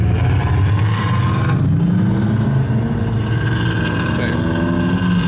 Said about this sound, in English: Yeah, we'll just rev it in there.